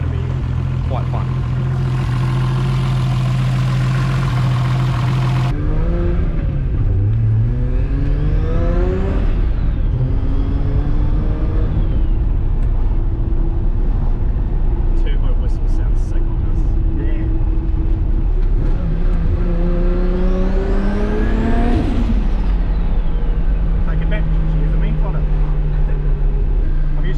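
A 700 HP Nissan C33 Laurel street car revs hard and bounces off the rev limiter, engine pitch sweeping up and down in repeated loud pulls with someone talking over it.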